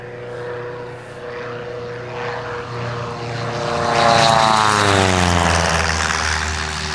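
A propeller airplane engine drones steadily and loud, its pitch rising and sweeping as the aircraft passes close by, with no voices over it.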